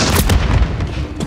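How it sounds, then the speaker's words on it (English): A stun grenade detonates in Call of Duty Modern Warfare 3 Domination on the Das Haus map, a loud, dense run of booming blasts and gunfire-like bangs that fills the whole moment without letup. "Stun grenade! Cover!"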